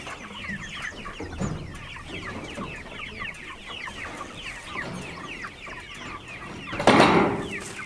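Backyard chickens cluck in a busy, overlapping chatter at close range, with one louder squawk toward the end.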